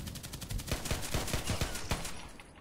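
An H&K USP pistol firing in the online shooter Contract Wars, a rapid string of about a dozen sharp shots close by, fairly evenly spaced, ending in a short pause.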